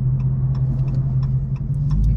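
Truck engine rumbling nearby as it drives slowly past in a parking area, a steady low drone with some rattles, fairly loud and close, no talk.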